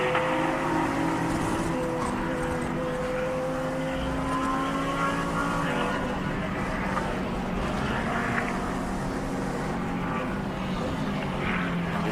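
Racing engines of KTM TCR cars lapping the Slovakia Ring during an endurance race, a steady loud drone with rising and falling pitch as cars pass through corners, continuous throughout with a broadband roar underneath.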